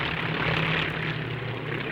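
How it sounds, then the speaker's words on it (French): Steady, continuous drone of WWII-era propeller airplanes taking off from a wartime airfield in Tunisia, a broad engine roar with a low throbbing hum, holding at an even level throughout with no voices. "les avions décollaient pour attaquer la Luftwaffe"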